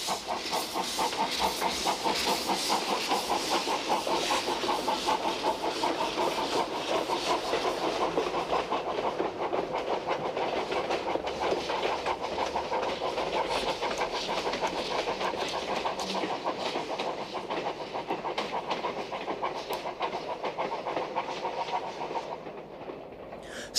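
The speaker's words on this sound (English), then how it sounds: "oldest loco currently available is this Swiss-built 260 tank, which dates from 1894" A Swiss-built 1894 steam tank locomotive runs along a Mediterranean island line, its rapid steady chuffing and rail clatter continuous and moderately distant, with a broad hiss throughout and no voices.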